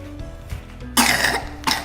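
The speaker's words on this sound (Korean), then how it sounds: "우리가 기침이 심하네요." Two sharp coughs, the first louder and sustained, the second shorter, with a quieter throaty sound before them.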